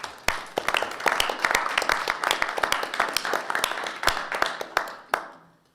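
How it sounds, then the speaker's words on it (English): A small audience at a library board of trustees meeting claps in a room, producing a brief patter of distinct, uneven hand claps that runs for several seconds and then stops. "just want to offer a round of applause to everybody"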